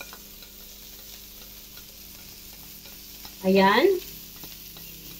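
Pechay and onion leeks frying in a pan give off a low, steady sizzle, and a person briefly says a single word partway through.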